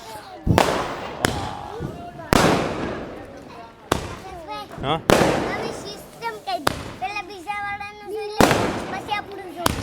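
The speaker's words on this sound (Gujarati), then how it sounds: "ફટાકડા જોવાની મને બહુ મજા આવે છે" Loud firework and firecracker blasts go off one after another during Diwali celebrations, sharp bangs with crackling tails, while people chatter and shout between them.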